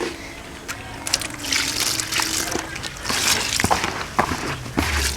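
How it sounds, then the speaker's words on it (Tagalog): Water trickles and splashes into a feed mix of bran, wheat and cornmeal, a soft, irregular pouring sound with some nearby movement and light handling noises. "lagyan natin ng konting tubig para haluin natin"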